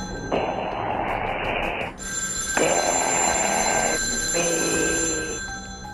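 A telephone rings in three long electronic bursts separated by short pauses, clear and close with a faint high tone beneath and no voices.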